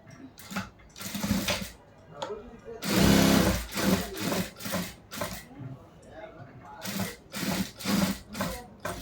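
Stitching a churidar top along its canvas on a sewing machine gives short, rhythmic bursts of mechanical whirring and rubbing, close by and repeated throughout, with someone talking over it.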